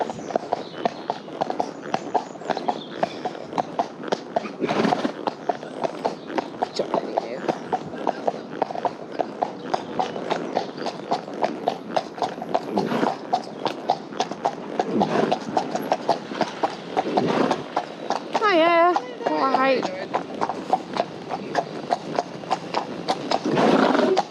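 Horse hooves clip-clopping steadily and close on a sunny hack, an even rhythmic beat that runs throughout, with a rider's voice speaking briefly now and then.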